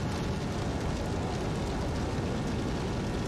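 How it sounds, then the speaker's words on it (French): Nitro boost in the racing video game Dangerous Driving, a steady dense roaring whoosh like rushing fire, held without a break at even loudness for the whole stretch. "c'est le bruit de la nitro dans le jeu"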